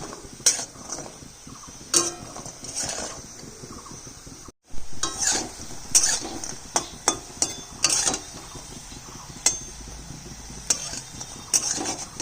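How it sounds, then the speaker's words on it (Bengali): Lentil fritters (bora) frying in oil with a continuous soft sizzle, punctuated by sharp clinks and taps of a utensil against the pan, close, with a brief dropout midway. "এইভাবে করে আমি সমস্ত বড়াগুলো ভেজে নিচ্ছি"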